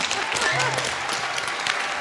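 A studio audience on a televised job-hunting show breaks into applause, a dense, steady wash of clapping lasting the whole moment, with a voice calling out over it.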